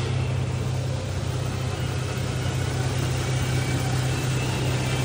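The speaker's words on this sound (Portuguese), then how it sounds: "Amarok V6 com difusor gringo e downpipe" Volkswagen Amarok V6 pickup fitted with an imported exhaust diffuser and downpipe, idling with a steady, close, deep low rumble that holds evenly throughout with no revving.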